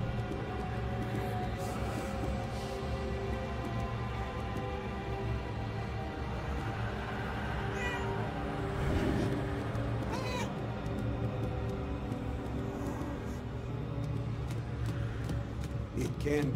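A cat meows repeatedly in a Murdered: Soul Suspect game scene, its cries faint and intermittent over a steady droning background hum, with no talk.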